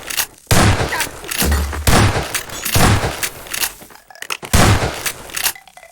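Repeated shotgun blasts ring out in an online video game gunfight, several heavy booming shots spaced about a second apart, loud and close with brief gaps of near silence between them.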